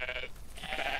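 Sheep bleat repeatedly in a video game battle royale, wavering cries that fill the short moment at close range with no talk over them.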